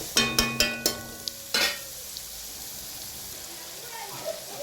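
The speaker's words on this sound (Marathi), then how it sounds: "आता हे पत्ता गोबी चांगला मी परतून घेते." Cabbage stir-fried in a pan for village-style noodles: a quick run of sharp metallic scrapes and taps at the start, then a fading soft sizzle with faint background noise.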